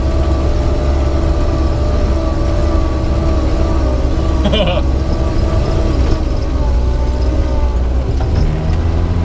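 A 1959 Moskvich 402 car's engine drones steadily while driving, a loud, constant low hum with road noise throughout and a brief faint squeak partway through.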